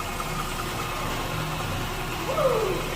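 A 2017 Ford Explorer with a 3.7L engine idling after repair work: a steady low rumble and hum with an even drone throughout, close by, with no talk.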